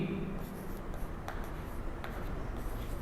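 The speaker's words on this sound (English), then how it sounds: "I'll write" Handwriting of a trigonometry equation, a soft continuous scratching and rubbing of pen on surface running steadily throughout, fairly close, with no talk.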